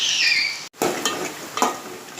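Onions frying in oil as part of a Konkani prawn curry, a close steady sizzle that cuts out for a moment and then returns with light stirring scrapes, with no talking.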